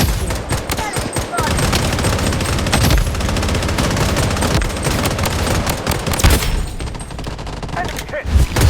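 Rapid gunfire from a pistol-only match in a battle royale video game rings out densely, with overlapping shots and impacts crowding a busy game soundtrack.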